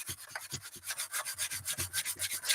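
Steady back-and-forth rubbing of sandpaper on wood, a rhythmic scratchy stroke repeating about six times a second, close and unaccompanied by voices.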